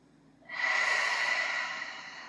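One long, steady breath in child's pose during a yoga session, a soft airy exhale that starts abruptly and fades slowly, close and quiet with no talking.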